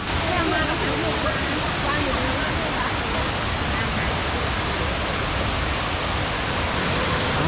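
Constant roaring rush of Tat Kuang Si waterfall near Luang Prabang, Laos, a dense even wash of falling water with no breaks.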